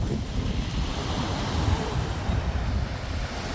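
Sea waves washing in at Charlestown harbour in Cornwall, a continuous rushing surf mixed with wind noise on the microphone, steady and fairly loud.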